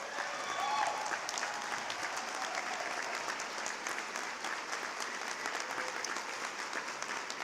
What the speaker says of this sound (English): could we please give them some applause?